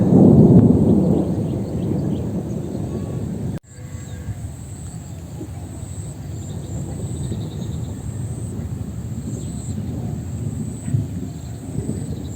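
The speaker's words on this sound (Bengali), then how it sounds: "এই যে দেখেন দিনে এখনও ডাকতেছে বিদ্যুৎ চমকাইতেছে" Thunder rolls on a rainy day in hilly village country, a loud low rumble at first that breaks off abruptly, then a quieter steady wash of rain-like noise continues with no talk.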